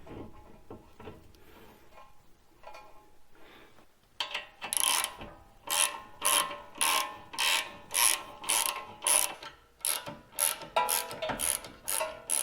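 Ratchet driving 19mm bolts while fitting a Bilstein 6112 front lift kit on an FJ Cruiser or 4Runner, heard as a steady run of about a dozen close, loud clicking strokes after a few quiet seconds.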